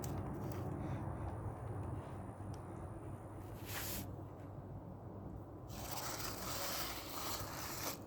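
Glue and concrete mixture being stirred, giving quiet scraping and rubbing strokes with brief brighter bursts of grit, steady and close with no speech.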